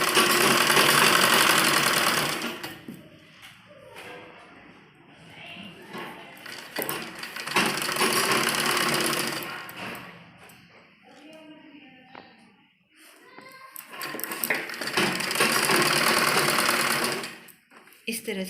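A sewing machine stitches a double-folded hem on a net baby frock, running in three long bursts of rapid mechanical whirring with quieter pauses between, where someone talks.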